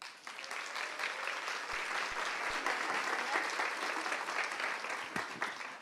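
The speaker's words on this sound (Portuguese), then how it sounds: "Eu vou pedir uma salva de palmas calorosa" Warm applause from an audience at a talk on empathetic leadership, a few seconds of steady clapping at a modest level that holds evenly throughout, with no speech.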